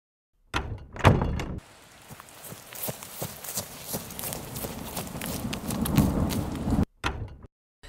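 A couple of sharp knocks and a solid thunk as a door shuts, followed by shuffling, scraping movement and another clunk.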